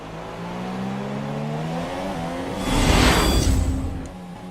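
Formula 1 race car engine in the F1 2017 racing game, a sustained high-pitched whine with shifting tones, swelling briefly as another car passes close by, then easing off again.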